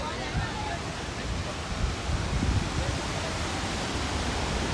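Rupse waterfall in Mustang, Nepal, pours down through a mountainside as a steady, broad roar of falling water, with a voice talking faintly beneath the constant rush.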